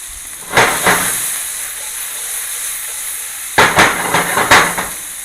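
Red onions and garlic sautéing in a hot pan, a steady bright sizzle with a few louder bursts of crackling as the food is stirred or tossed, close and without talk.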